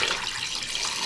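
Plain water gushes steadily into a karahi holding desi chicken, a continuous close, bright splashing pour with no pauses.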